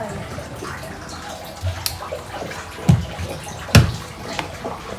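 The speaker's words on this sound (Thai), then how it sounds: "ตรงนี้เราก็ปล่อยน้ำทิ้งไป" A Haier HWM-T85 washing machine with 8.5 kg capacity drains its water after the spin cycle, giving a steady watery rush broken by a few louder splashing gurgles.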